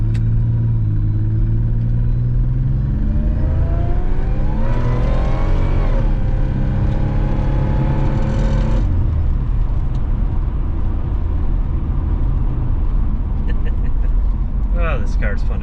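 A supercharged 1980s Pontiac 6000 drives along, its engine droning steadily and rising in pitch as it accelerates and shifts, heard from inside the car with a constant loud rumble.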